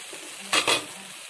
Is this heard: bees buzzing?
no